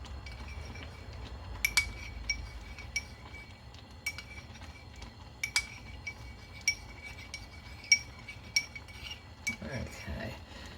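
A metal spoon stirs savoury mince in a pot, giving irregular sharp clinks and scrapes against the pot under a steady low background hum, with the taps spaced a second or two apart.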